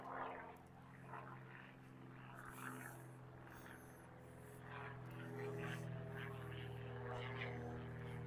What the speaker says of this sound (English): Small plane going over.